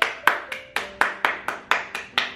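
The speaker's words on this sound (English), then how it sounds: "Round of applause for presentation." Rounds of applause from a small group at a home holiday dinner, sharp bursts of clapping repeating in a steady rhythm, close and fairly loud with no talking.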